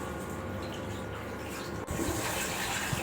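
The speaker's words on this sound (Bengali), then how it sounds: "তো চালটা ধোয়া হয়ে গেছে" Rice being rinsed in water in a home kitchen, a steady wet swishing and running-water wash that carries on throughout, close and moderately loud, with a slight shift in texture partway through.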